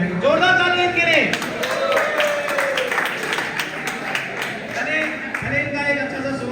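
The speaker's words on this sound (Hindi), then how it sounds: "जोरदार तालियां के लिए।" An audience at the Indian Fighters Club in Bahadurgarh applauds a performer who plays guitar. Scattered claps build in the middle and mix with crowd noise, framed by someone speaking loudly before and after.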